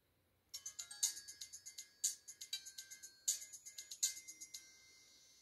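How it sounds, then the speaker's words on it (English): Startup chime of an LG AX145 flip phone on Alltel, a short run of bright electronic tones in rhythmic bursts over about five seconds, played at maximum volume yet still fairly quiet. "I said that the startup sound was pretty quiet on this one"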